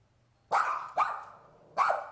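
Several dogs bark at night as someone tries to break into a house: three loud, close barks, two in quick succession and a third after a short pause, with no talking.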